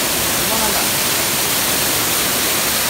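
Loud, constant rushing roar of Kurangani Falls in Theni, broadband and unbroken throughout, close by.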